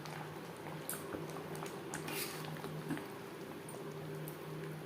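Chicken simmers in a homemade biryani gravy, giving a soft, steady bubbling and gentle liquid patter close by, with no talking.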